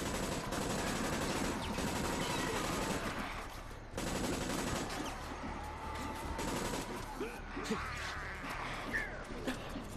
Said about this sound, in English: I'm shooting the zombie